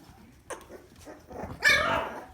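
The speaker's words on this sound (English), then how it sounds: "Check him out, look growling." A three-week-old American bully puppy gives small, close yips and a short growling bark, with a louder whimpering cry toward the end.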